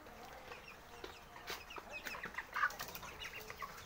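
Broiler chickens, 27 days old, in a farm shed at dusk before the lights are on, give faint scattered clucks and brief wing flaps over a soft, steady barn hum, with no one talking.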